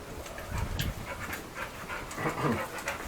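A dog pants steadily during heel training with an e-collar, a soft rapid breathy rhythm held close and fairly quiet against faint outdoor noise.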